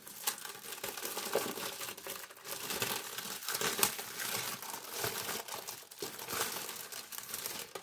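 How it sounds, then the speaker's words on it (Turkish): Continuous crinkling and crackling of a magazine's thin plastic wrapper being pulled and torn, close up, with sharp rips scattered through the steady rustle. "O yüzden poşetini yırtacağım."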